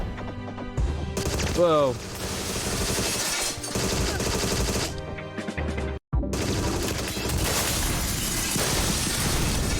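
Dense gunfire and barrel explosions from the shooter game Agent 64: Spies Never Die crash and roar almost continuously, breaking off briefly near the middle, with a short startled exclamation from a player.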